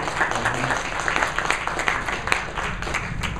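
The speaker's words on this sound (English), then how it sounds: "Round of applause." An audience at an entrepreneurship talk breaks into a round of applause, a moderate, steady clapping with scattered louder claps standing out, heard from a middle distance.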